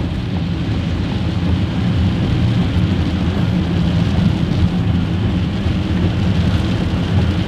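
Steady rain falling outdoors in a forest, a dense continuous hiss and patter with a low rumbling undertone, constant in level throughout with no voices.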